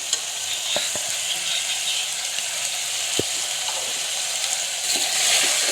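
Mutton pieces fry in a pan with salt and coriander powder, a constant close sizzle broken by a few sharp scrapes and taps of the spoon as it is stirred.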